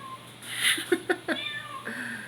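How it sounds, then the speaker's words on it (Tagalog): A cat meows loudly and close by, with a couple of short cries followed by a longer drawn-out yowl. "huwag niyo pansinin yung pusa ko, maingay talaga yung mga pusa ko, eh"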